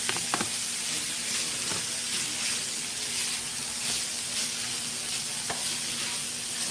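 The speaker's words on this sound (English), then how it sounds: "now go ahead, add these onions" Onions frying in a pan for a steak and cheese sub give a steady, moderately loud sizzle with occasional stirring scrapes and clicks, close by, with no talking.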